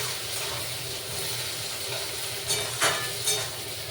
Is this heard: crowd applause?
no